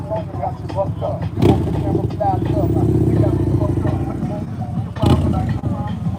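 A motorcycle engine throbs with a deep, loud idle that swells in the middle, with people talking and crowd noise around it.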